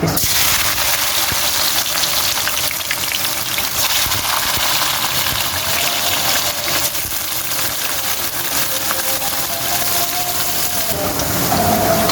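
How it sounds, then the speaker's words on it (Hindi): Bitter gourd (karela) pieces fry in a pan of hot oil with a steady, loud, dense sizzle that holds evenly throughout, with no talking. "ये देखिए, ये मैंने सारे करेले डाल दिए। अब ये फ्राई हो रहे हैं।"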